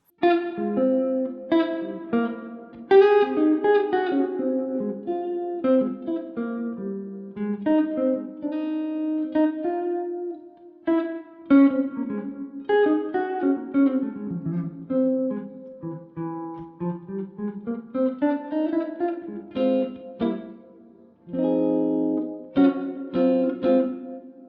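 Clean electric guitar plays short chord fragments and melodic phrases alone, with pauses between groups of notes and a light effect on the tone.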